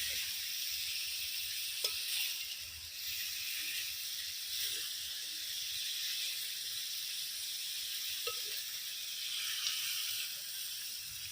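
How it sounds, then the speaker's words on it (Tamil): Country chicken sautés in a pan as its released water cooks off, a steady soft sizzle and hiss with faint occasional stirring clicks, no talking. "இந்த தண்ணி சுண்டுற வரைக்கும் நல்லா வதக்கலாம்."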